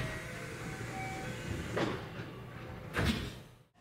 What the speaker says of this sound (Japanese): 午前8時6分、ひねの駅を出発。